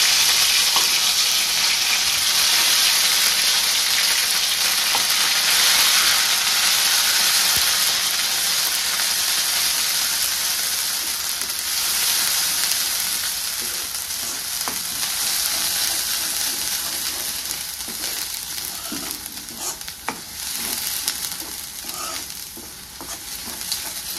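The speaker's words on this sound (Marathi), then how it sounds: "आता ही वाटण मी टाकून घेते तेलामध्ये" Ground masala paste fries in hot oil over a cumin and mustard seed tempering for a misal vegetable curry, giving a loud, steady, close sizzle with stirring scrapes throughout.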